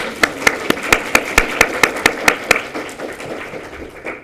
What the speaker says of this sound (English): I would like all of you to give an applause to each of the teachers, mentors, parents that are here for you today